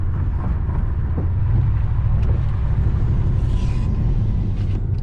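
A Pontiac Grand Prix GXP cruising on a service road after an ignition coil and spark plug fix for a misfire, heard from inside as a steady loud engine and road rumble with some wind noise.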